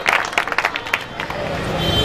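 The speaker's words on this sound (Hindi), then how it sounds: "पुरजोर तालियों से इस्तकबाल करें डॉक्टर क़य्यूम सबा साहब का" Audience clapping breaks out to welcome Dr. Sayyed Kayyum Saba at a religious lecture gathering, uneven at first with sharp claps that blend into a steady wash of applause and crowd murmur for about two seconds.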